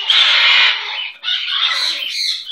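A pet bird gives loud, harsh squawking calls, one long burst followed by a brief pause and then a second, more broken stretch of raspy calling, close up with no talking.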